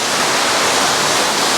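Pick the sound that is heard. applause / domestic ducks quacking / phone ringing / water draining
water draining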